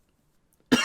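A single sharp cough bursts out near the end after near silence, close and fairly loud, from a man on a casual talk podcast.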